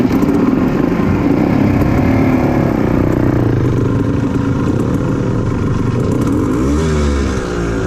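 A Royal Enfield motorcycle engine idles and runs loudly up close on a muddy ride, a continuous low thumping rumble that shifts pitch near the end, with no voices.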